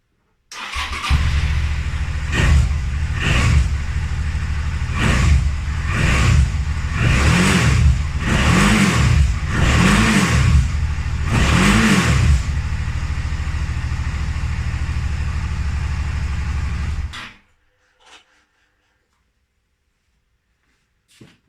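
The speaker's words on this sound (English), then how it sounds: "So that was the stock sound." A Suzuki V-Strom motorcycle on its stock exhaust starts up, idles, then gets a series of about six rhythmic throttle blips before settling back and shutting off; the sound is loud and close, with a steady low engine rumble throughout and no talking.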